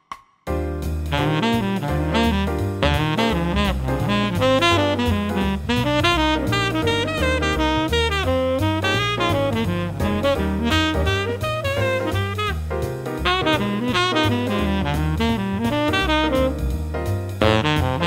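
Jazz instrument improvising only chord tones (root, third, fifth, seventh, ninth) over the changes of a standard, a steady stream of pitched notes played alone throughout with no talking.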